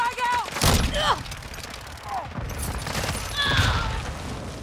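Gunfire in a Call of Duty match on the Shipment map comes as dense bursts of shots and impacts, with a sharp loud crack near the start and another cluster later, over game voice chatter and effects.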